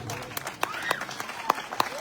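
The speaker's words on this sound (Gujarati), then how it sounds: "તાળી થઈ જાય એકવાર આના ઉપર" Applause from a crowd at a Gujarati political rally speech, fairly faint and diffuse with a few sharper claps standing out, brief and somewhat distant.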